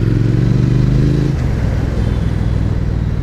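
A Triumph Thruxton R motorcycle engine roars loud and close while riding, with steady wind rush, the pitch dropping partway through as if shifting or easing off.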